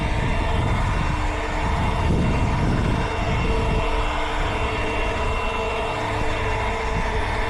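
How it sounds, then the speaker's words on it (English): A leaf blower blows debris off a path back into a lawn during a spring organic fertilizer application. It roars loud and steady from close by for the whole stretch, a continuous broadband rush with no voices. "Grab the blower and always blow off. Blow anything back into the grass."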